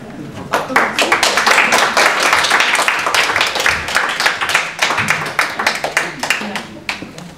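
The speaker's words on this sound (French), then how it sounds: "Vous pouvez recommencer les applaudissements parce que la caméra n'avait pas commencé là" An audience claps in a room for a filmed event at municipal archives in Lyon, a fairly close, lively patter of many hands with individual sharp claps standing out, sustained throughout with slight swells.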